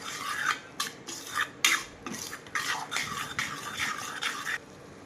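Masala paste is stirred with a little water in a pan, a spoon scraping and clinking against the metal in quick irregular strokes, close up and with no talk.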